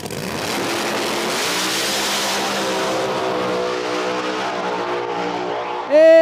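Drag race at Cordova Dragway between a Camaro and the Murder Nova: loud, sustained engines roaring and accelerating down the strip, rising in pitch as they pull away, with a louder burst at the end.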